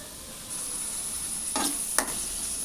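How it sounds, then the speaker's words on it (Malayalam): Sliced onions fry in coconut oil in a pan, giving a steady soft hiss with a couple of brief scraping stirs near the end. "എന്നിട്ട് സവാള ഒന്ന് വാടി കിട്ടണം. അപ്പോൾ അത് വരെ ഒന്ന് ഇളക്കി കൊടുക്കുക."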